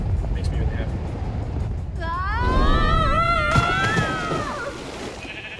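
Wavering bleats from a sheep in Minecraft: Story Mode rise over a rumbling game background, a cluster of bleats lasting a few seconds at moderate loudness.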